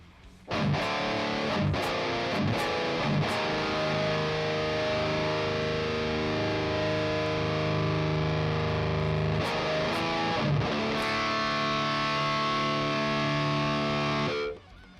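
Distorted electric guitar played through a Line 6 Helix Native amp simulator with a dark impulse response, sustained chords and a few choppy hits ringing out loud and alone for about fourteen seconds.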